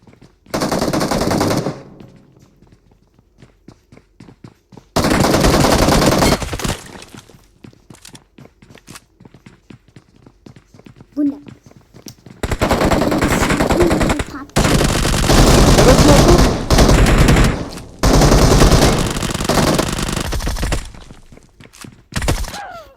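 Uzi fire in the mobile battle game PUBG Mobile, several long rapid automatic bursts separated by quieter stretches of footsteps and faint game sounds, loud and close, with players talking in between.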